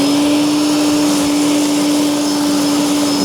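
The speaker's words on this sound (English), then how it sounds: "This thing sounds a lot like a vacuum cleaner" A steady, loud electric lawn dethatcher motor whine with a constant hum and broadband whoosh, running evenly throughout like a vacuum cleaner, with no talking.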